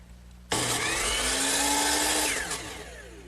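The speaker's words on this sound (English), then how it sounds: "Swing the saw back over to the other side of 45 and cut it off." A power miter saw set at 45 degrees bites into a wooden piece for a Chippendale mirror frame, a loud sudden whine that holds steady for about two seconds and then winds down.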